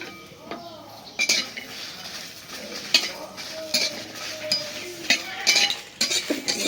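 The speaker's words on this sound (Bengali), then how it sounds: "যে রসুন মরিচ শুকনা কড়াইতে ভেজে নিলাম" Garlic and dried chillies dry-roasting in a wok give a spatula's repeated scrapes and clinks against the metal with light sizzling underneath, close up.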